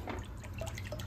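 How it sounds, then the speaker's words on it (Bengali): Cooking oil is poured from a container into a pan for frying onions, a soft close liquid trickle and drip over a low steady kitchen hum. "এই তেলটা একটু দেব"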